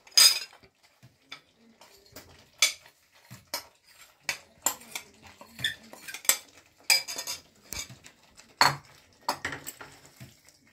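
Paneer being stirred into masala in a metal kadhai, a spoon or spatula scraping and clinking against the pan in irregular taps and knocks, close and fairly loud.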